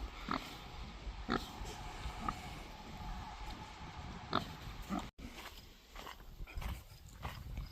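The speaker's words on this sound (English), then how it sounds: "here's Boris, our new breeding boar that we're hopefully going to get a few litters out of." A breeding boar grunts on a farm, giving a string of short, deep grunts and snorts at irregular intervals, close by and moderately loud over a constant outdoor background.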